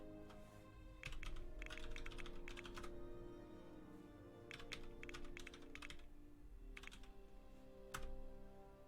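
Computer keyboard typing while playing The Sims 4: quick bursts of clattering keystrokes separated by short pauses, close and clear over a steady low background hum.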